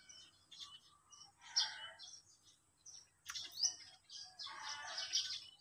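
Small pipits, tiny birds with dark bills, chirp in scattered high tweets, several overlapping calls close by against a quiet background with no voices.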